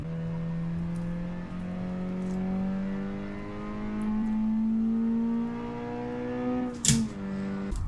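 A JDM sports car engine droning in a racing video game, a steady tonal hum that slowly climbs in pitch, with a brief sharp burst near the end before settling back.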